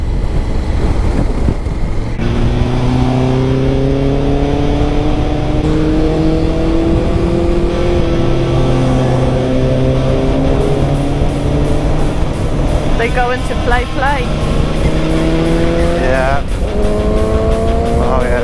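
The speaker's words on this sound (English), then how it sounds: "Sports bike stream up here." Sports motorcycles on a twisty hill road in Spain rev and accelerate past one after another, engine notes rising and falling in loud sweeps with gear changes, under steady wind noise and someone talking.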